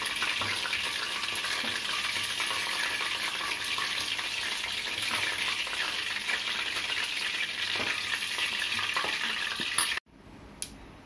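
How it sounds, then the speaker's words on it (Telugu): Chicken pieces for biryani fry in a pan with a loud, steady, close sizzle and crackle. The sizzle runs for about ten seconds, then cuts sharply to near quiet, and no one speaks. "ముక్కలు ఎలా ఫ్రై చేసుకోవాలి"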